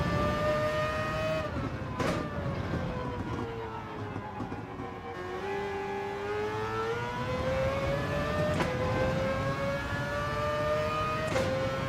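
A race car engine in Gran Turismo 7 drones steadily at high revs, its pitch sliding down and back up through gear changes, loud and continuous with no talk.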